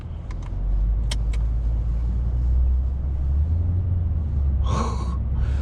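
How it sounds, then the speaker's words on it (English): A 2015 Lexus RC F's V8 engine grumbles from inside the car, a deep steady rumble that swells and holds, with a sharp gasp and brief breathy sounds near the end. "That V8 grumble."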